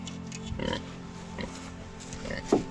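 Low, close grunts from a sow with gangrenous mastitis at irregular intervals over steady background noise, a few short snorts spread across the moment.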